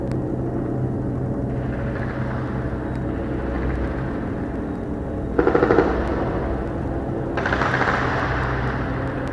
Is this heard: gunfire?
yes